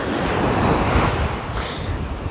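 Ocean waves washing onto the shore at Gulf Shores, a steady loud broadband surf roar with wind buffeting the microphone throughout and no voices.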